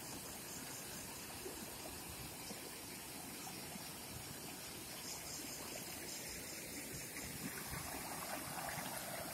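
A small mountain stream too shallow to bathe in, flowing beside a campsite: a steady, dense rush of water that runs unbroken and moderately loud throughout, with no voices.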